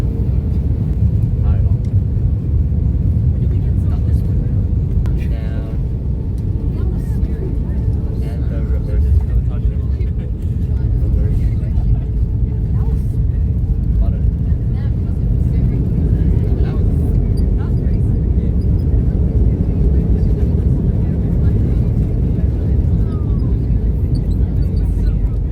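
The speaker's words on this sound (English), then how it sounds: "sit back, relax, and enjoy the landing into Brisbane Airport" A Jetstar airliner landing at Brisbane Airport, heard from inside the cabin as a loud, constant low roar and rumble that holds steady throughout, with faint clicks and rattles on top.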